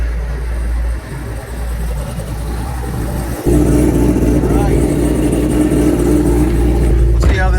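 A Corvette C7 Z06 with a freer-flowing, barely muffled exhaust idles loudly, then revs up hard and holds a louder roar, with people talking over it.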